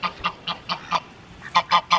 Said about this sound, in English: the ducks are making their slow, waddly way up the hill